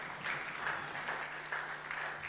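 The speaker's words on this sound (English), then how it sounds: "Can we have a round of applause for both of them?" A chapel audience at a school service gives a round of applause, a steady crackle of many hands clapping at moderate distance, fairly even in loudness from start to finish and free of talk.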